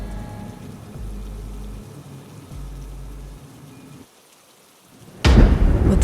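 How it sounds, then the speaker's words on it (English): Steady heavy rain with a low rumble of thunder, a brief hush, then a sudden loud lightning crack bursting in near and sharp. "With the sound of a heavy bolt of lightning, Stefan suddenly woke up."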